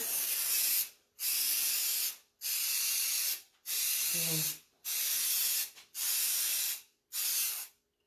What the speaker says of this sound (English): So I'm just going to prime it and make sure that the spray works good